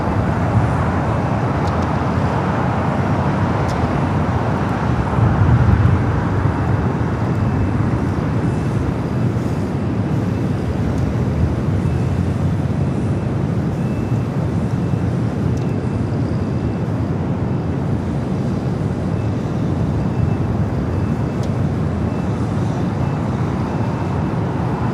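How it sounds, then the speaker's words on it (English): Spirit Airlines jet rolling down runway 25 at LAX for takeoff, a broad, steady engine roar that stays loud and close for the whole stretch without any voices. "Spirit flight rushing down the 25 at right,"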